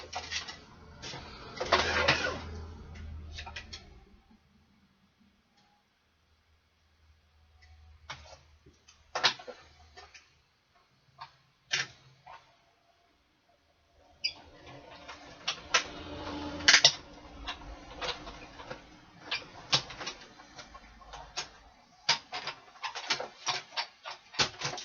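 Die-cutting machine rolling framelits through paper: a close, whirring mechanical grind with clicks at the start, a quieter stretch with scattered taps, then a longer rumbling crank-driven pass with sharp ticks.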